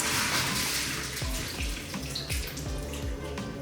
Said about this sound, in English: So I got a strainer here, guys. I'm gonna pour all the water out